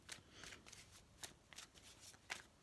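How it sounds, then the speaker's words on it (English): Tarot cards being shuffled by hand in a quiet room, with soft, rapid riffling bursts recurring every half second or so, close and faint with no talking. "Shuffling properly, yeah."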